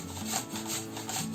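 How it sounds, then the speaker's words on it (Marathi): A block of jaggery is rubbed against a grater in quick, rhythmic back-and-forth strokes, producing close, raspy scraping that repeats several times in a short burst. "त्याला ते गुळ किसून देते"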